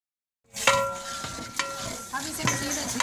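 Minced keema and potato chunks stir-fry in a pot, a spoon scraping and clinking through the mix over a close, steady sizzle after a silent start, with no voices.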